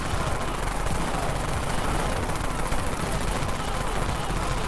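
The Dawn Mag gun fires in the zombie game Dead Frontier, a dense continuous stream of rapid shots blending into a steady rattling roar, fairly loud throughout.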